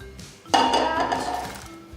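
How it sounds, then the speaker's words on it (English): A hand scraper scrapes warm butterscotch pretzel bar mixture out of a pan, starting abruptly after a quiet moment as a sustained, fairly loud rasping scrape with faint clinks, no talking. "So just scrape it out of the pan."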